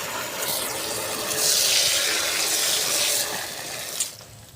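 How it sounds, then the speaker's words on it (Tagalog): Water from a pump gushes steadily into a tank, a strong continuous rushing fill that fades out near the end. "yung setup natin sa tangke maganda yung tubig malakas yan"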